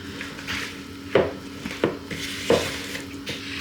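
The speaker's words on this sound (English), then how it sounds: "pop in your flour and then give it a final mix until everything's mixed together" Spoon knocking against the side of a mixing bowl as flour is stirred into a tea loaf batter, a few distinct close taps at irregular intervals over a soft scraping background, no talking.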